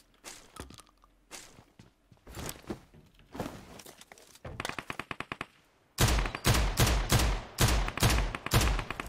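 Shotgun blasts and rapid gunfire ring out in the battle royale game PUBG Mobile, with scattered shots early on, then dense, loud bursts firing in close succession with no talk.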